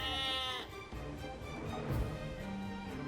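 A sheep bleats in Age of Empires II on Xbox Series S, one clear, wavering bleat up front, followed by a low bed of game ambience and clicks.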